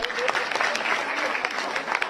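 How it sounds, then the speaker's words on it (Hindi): Audience applause following a Hindi-speaking host's song performance, a steady wash of clapping hands with scattered sharper claps, fairly close and continuous throughout, with a voice briefly audible underneath. "अरे तो जोरदार तालियां हो जाए यार"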